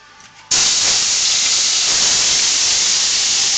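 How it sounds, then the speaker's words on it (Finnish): Scorpions dropped into a frying pan with a little rapeseed oil and mostly bacon fat, bursting into a sudden loud, steady hiss of sizzling that continues close up without pause. "Siellä tirisee."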